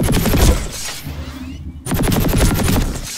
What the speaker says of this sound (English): Try shooting some targets while aiming down sights.